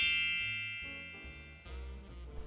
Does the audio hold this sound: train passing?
no